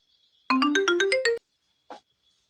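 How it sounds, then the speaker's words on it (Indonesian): A phone ringtone for an incoming call plays one short, rising run of clear electronic tones, then stops, followed by a single brief faint blip. "Telepon iki."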